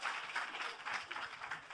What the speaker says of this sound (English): give him another round of applause for doing that so quickly